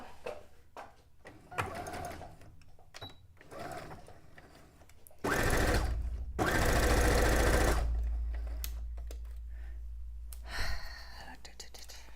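A sewing machine runs in short bursts at regular stitch length while a cone-shaped cape or dress is sewn; two louder, sustained stitching runs stand out amid quieter handling sounds and soft speech.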